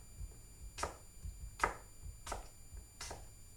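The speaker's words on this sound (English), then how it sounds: "just going to cut them up, throw them in there." Ripe peaches cut up with a knife on a board for a galette, four crisp chopping strokes at an even pace, close and fairly quiet with no talk.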